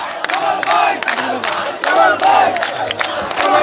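A large procession arriving at an election street rally: a loud, close crowd cheers and shouts in rising surges, with voices chanting together in a rhythmic pattern.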